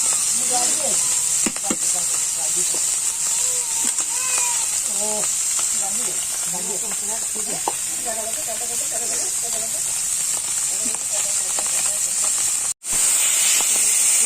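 Small fish fry in hot oil with a constant loud hissing sizzle and scattered crackles, while a person talks over it.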